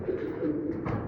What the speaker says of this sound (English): I'm sure you can hear the pigeons in the background making noise